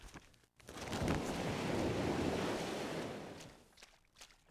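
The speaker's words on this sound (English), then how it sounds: "Water sound." Water sound in the fantasy role-playing game Might & Magic VI: The Mandate of Heaven, a steady broadband wash like surf or rushing water that swells in and holds for several seconds before easing off, with no talk over it.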